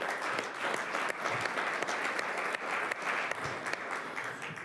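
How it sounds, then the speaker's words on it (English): Round of applause at a St. Catharines city council meeting for the Ridley College team: steady clapping from a roomful of people lasting several seconds, with no voices over it. "can we get a round of applause for the Ridley College team?"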